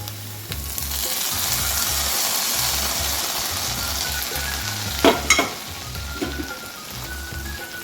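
Fried coconut pieces in hot ghee sizzle steadily before being poured into banana payasam. A close hiss holds throughout, and a couple of sharp clatters and a splash come about two-thirds of the way in.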